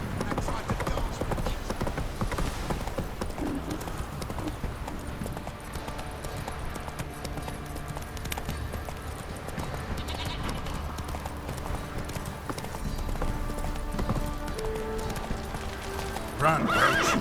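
In The Witcher 3, the horse Roach gallops with fast rhythmic hoofbeats running throughout, whinnying along the way over game music and background ambience, with voices speaking at points.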